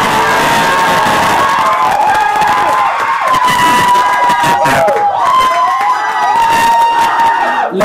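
A contest audience cheers loudly for the contestant Cuarto Oscuro, a sustained crowd roar with piercing whoops and shouted voices that rise and fall across the whole span.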